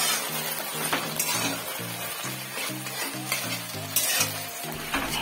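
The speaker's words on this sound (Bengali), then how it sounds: "এরপর পনিরের টুকরোগুলো তাতে দিয়ে খুব ভালো করে নেড়ে চেড়ে ভাজতে থাকবো।" Paneer pieces being stirred and fried in a thick cornflour gravy in a pan, a steady sizzle broken by repeated scraping strokes of a spatula at a regular rhythm, close and clear with no talking.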